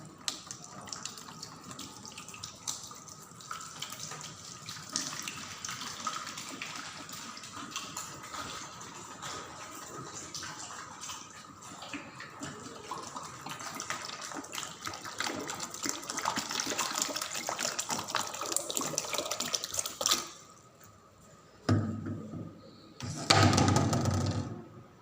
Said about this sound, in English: I am taking this water bottle and putting this water in the tub